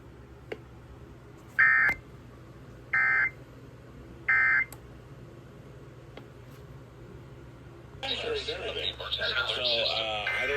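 Emergency Alert System attention tones play three times as short, loud, evenly spaced electronic bursts on a radio station broadcast, followed by a burst of louder, noisier radio audio, with speech over a low hum.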